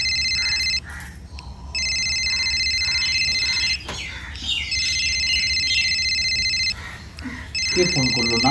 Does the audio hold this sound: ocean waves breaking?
no